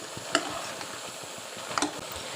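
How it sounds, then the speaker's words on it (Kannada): Jackfruit palya stirred in an uncovered pan, soft frying sizzle with a couple of distinct scraping clinks of the spoon against the metal. "ಸ್ವಲ್ಪ ಸಮಯದ ನಂತರ ಮುಚ್ಚಳ ತೆಗೆದು ಒಂದು ಸಾರಿ ಚೆನ್ನಾಗಿ ಮಿಕ್ಸ್ ಮಾಡಿಕೊಳ್ಳಬೇಕು"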